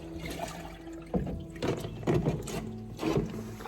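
Water poured and splashing into a container to make a horse's feed, in uneven gushes and sloshes of moderate loudness at close range, with no talking.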